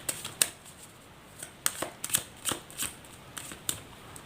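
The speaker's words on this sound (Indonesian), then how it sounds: "Saya shuffle terlebih dahulu." Tarot cards being shuffled by hand, a string of quick papery riffles and soft slaps in uneven bursts, close and fairly quiet, with no speech.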